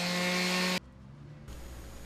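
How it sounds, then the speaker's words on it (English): An electric sander knocks down high points and sharp edges on cured fiberglass during a solar patio boat build, a loud steady power-tool whir that cuts off abruptly, then a quieter rough rubbing sound follows. "I come in with the sander and again knock down all the little high points and some of the sharp edges"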